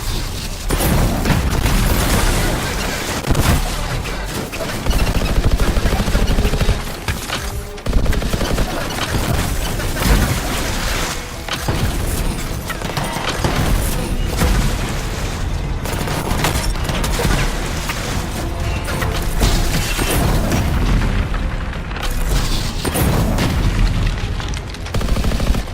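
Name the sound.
weapon fire on crystals in Anthem video game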